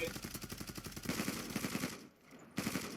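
In the game Zula, a gun fires into the air in fast, rapid bursts, with a brief pause before the shooting starts again.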